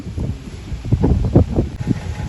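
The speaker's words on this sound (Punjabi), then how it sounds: "ਹਵਾ ਚੱਲਦੀ ਹੋ ਬਹੁਤ ਯਾਰ" Strong wind buffets outdoors beside an old Escort tractor, a loud low rumbling roar with gusty surges pressing on the microphone and no talking.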